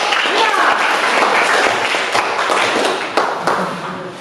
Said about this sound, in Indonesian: Kita beri aplaus buat kelompok